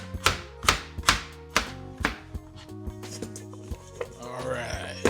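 Knife chopping peeled produce into quarters on a cutting board while preparing steakhouse-style seasoned wings, with about a dozen sharp, close chops in an uneven rhythm and no talk over them.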